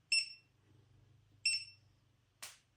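Laser level beeping to signal it is not sitting level: two short bright chirps about a second and a half apart over a faint low hum, followed by a brief hiss.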